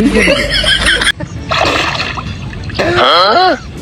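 People plunging into water in an underwater breath-holding contest, with splashing and sloshing heard close by under loud excited talk and laughter.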